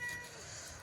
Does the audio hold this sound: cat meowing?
yes